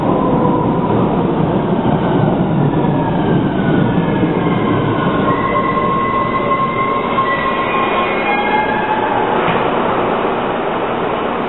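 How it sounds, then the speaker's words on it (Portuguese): A train pulls in under continuous loud rumbling and rattling of carriages, with high, drawn-out wheel squeals rising toward the end; no one speaks. "O trem tá chegando, Nenê."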